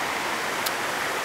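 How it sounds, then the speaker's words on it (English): River water pouring over a small dam at a micro hydropower site, a steady hissing rush of falling water heard close and alone. "so there's always water kind of pouring over"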